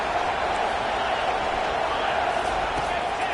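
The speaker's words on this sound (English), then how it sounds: "Decibels rising as the crowd gets behind this defense on third down" Michigan–Purdue college football stadium crowd roaring for the defense on third down, a broad, continuous wash of crowd noise, loud and sustained, with an announcer talking over it.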